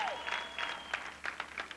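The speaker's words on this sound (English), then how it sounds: "By applause." Audience applause at a live comedy show in answer to a question put to the crowd, a brief burst of clapping from a modest crowd, fairly faint and heard alone.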